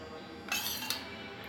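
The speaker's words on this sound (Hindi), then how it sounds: "अभी मैं इसमें असली घी डालूंगी।" A metal spoon clinks against a pot twice in quick succession, short bright taps while pure ghee is added to dal.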